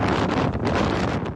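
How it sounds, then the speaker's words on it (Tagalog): Howling wind with heavy rain lashes a resort in Surigao City during a typhoon, a brief burst of loud, gusting roar buffeting the microphone close up. "Nakakabingi ang ugong ng hangin na sinabayan ng malakas na ulan sa resort na ito"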